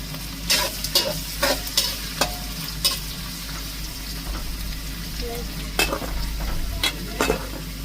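Food frying in a pan, with a steady close sizzle under repeated sharp scraping and stirring clatters from a utensil, spaced irregularly throughout.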